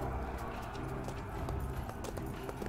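Hooves clip-clop rapidly as a large horse gallops during a siege battle in the video game Three Kingdoms, a quick, steady beat of hoofbeats over faint battle noise.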